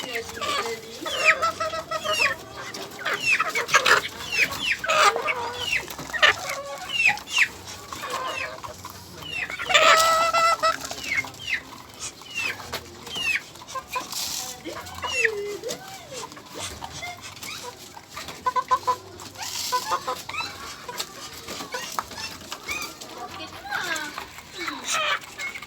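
Chickens and young stag roosters clucking and squawking in short, irregular bursts while being fed, close by, with a voice speaking now and then and a dog and children faintly in the background.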